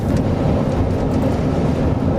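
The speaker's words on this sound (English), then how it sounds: "Oh yeah, Big hail! that's window breaking." Large hail pounding down during a storm, a dense, loud, continuous roar of impacts with no distinct individual hits, steady throughout.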